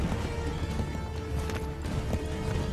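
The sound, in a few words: horse galloping in Assassin's Creed 3 video game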